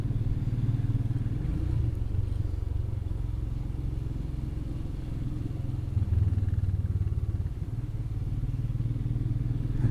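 A motorcycle rides through a quiet Spanish village, its engine giving a steady, close, loud low rumble with no speech.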